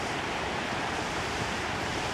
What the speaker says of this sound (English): This is the water running.